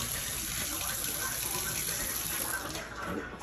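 Liquid pours and splashes steadily into a kitchen sink as milk from a bowl is dumped out, a continuous close watery rush lasting the whole moment, with faint household background.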